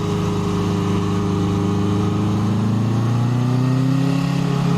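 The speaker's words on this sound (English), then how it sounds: "I sure like having a bike finally that doesn't care about this hill." A 1981 Honda CB750K motorcycle engine pulls steadily up a hill, its loud, close, continuous drone rising gradually in pitch as it climbs, with no talk over it.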